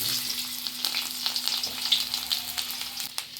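Cubed potatoes, bay leaves, dried red chillies, cardamom and cinnamon hit hot oil for a papaya ghonto, giving a steady crackling sizzle with small pops and spits, close and alone.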